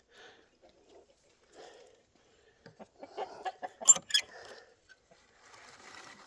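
Hens in a hen house give scattered soft clucks and short calls, with a louder burst of squawking in the middle, then quieter clucking toward the end.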